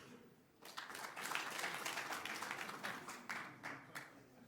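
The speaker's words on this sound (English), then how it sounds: "Please clap if you use AI weekly in your work." A conference audience claps in response to a question, the applause starting abruptly, swelling into a dense patter for a few seconds, then thinning into scattered claps.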